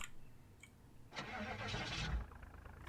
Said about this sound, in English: hitting V and then just hitting start vehicle seems to work a lot better than me manually attempting to start this thing